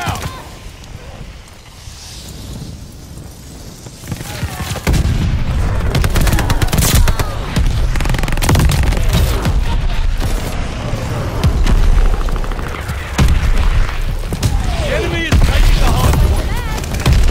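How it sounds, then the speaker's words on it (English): Mortar strikes and gunfire in a Call of Duty Vanguard online multiplayer hardpoint match: heavy, continuous booming blasts and rattling automatic fire fill the scene loudly, growing denser after the first few seconds, with voices calling out beneath the din. "Mortars incoming."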